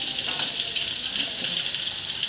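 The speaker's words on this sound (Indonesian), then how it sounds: "Ini saya panaskan lagi rebungnya" Bamboo shoots with serundeng being reheated in a pan, giving a steady hissing sizzle that runs continuously and fairly close, without any talking.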